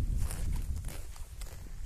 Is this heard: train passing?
no